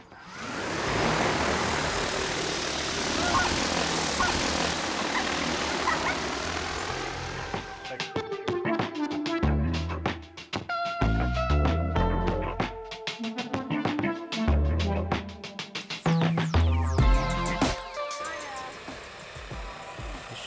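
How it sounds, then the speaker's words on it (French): Agricultural spraying drone hovering and flying at about four metres, a loud whirring propeller drone that fades and shifts in pitch as it moves back and forth, with people talking over it in the second half. "le drone en tant que tel déplace de l'air"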